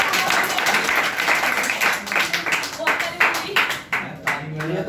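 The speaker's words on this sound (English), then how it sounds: "Clap for Harish." A small audience at a public speaking session claps for a participant, a burst of uneven applause that thins out and tapers toward the end, with some talking over it.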